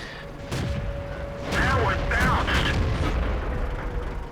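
A tank cannon shot in World of Tanks: a heavy muffled boom followed by a rumbling, swelling roar of engine and mechanical noise that keeps going under commentary speech.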